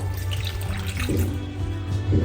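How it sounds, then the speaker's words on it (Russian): Warm water pours into an active, bubbly sourdough starter for rye bread, a steady close splashing stream with background hum and no talk. "Добавляем сюда теплую воду"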